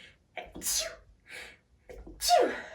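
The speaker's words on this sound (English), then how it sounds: "Excuse me, I've just sneezed." Two sharp sneezes, the second louder and more explosive, each preceded by a short breathy intake, close to the microphone.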